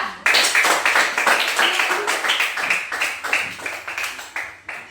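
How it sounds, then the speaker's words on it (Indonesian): Classroom students clapping for a group, a lively close round of hand claps with sharp individual slaps in an uneven rhythm, fairly loud throughout. "Tepuk tangan untuk kelompok 3."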